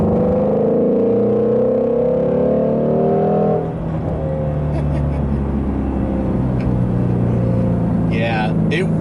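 Ford Mustang Shelby GT350 (2017) engine with Tremec manual gearbox revving hard, a loud rising-and-falling drone that steadies into a sustained cruise hum, with people talking over it.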